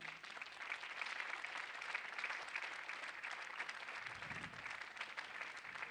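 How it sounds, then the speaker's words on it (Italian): Applause from a fashion show audience greets designer Paola Tangianu at the Preludio d'Estate 2017 event, a steady wash of clapping that stays even and moderately distant throughout, with no talk over it. "Paola Tangianu, un applauso."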